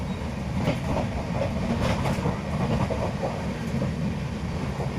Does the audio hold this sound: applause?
no